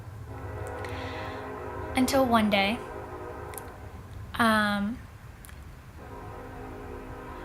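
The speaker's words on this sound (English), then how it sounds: "I'm sorry about the train" A passing train sounds two long horn blasts a couple of seconds apart over a steady low rail rumble, moderately distant, while a person keeps talking.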